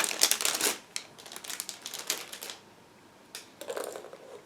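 Crinkly plastic packaging being torn and handled around sprues from a Rye Field Model 1/35 M1A1/A2 Abrams kit, a run of close, dry rustling and crackling bursts with short pauses, no talk.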